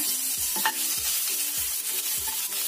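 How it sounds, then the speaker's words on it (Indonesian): Garlic and shallots frying in about three tablespoons of hot oil, a steady bright sizzle with a spatula scraping and stirring in a regular rhythm, close and clear with no talk. "Setelah kira-kira panas, masukkan bawang putih dan bawang merahnya."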